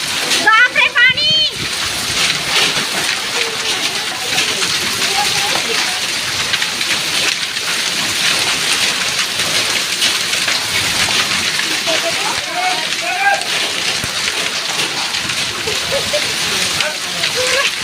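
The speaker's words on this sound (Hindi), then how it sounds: "हमन के गांव में भारी करा गिरत है बड़े बड़े के करा ये देखा कितना सारा करा गिरत है" Heavy rain with large hailstones pelts down in a village, a dense steady roar of drops and splatter with gusting wind, while someone talks excitedly over it throughout.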